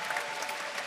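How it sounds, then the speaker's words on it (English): Brief burst of applause from spectators at the Rubik's WCA World Championship 2023, an even wash of many hands clapping at a distance, faint and steady. "Round of applause, please."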